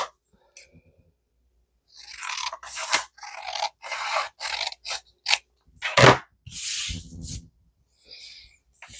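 Scissors cut through folded paper for paper flowers, close rasping snips in short irregular bursts separated by silent pauses, with one louder crunchy cut midway.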